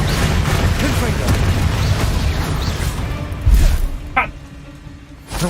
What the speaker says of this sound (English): 삐지직 소리 뭐냐고? 거미가 박살나는 소리입니다.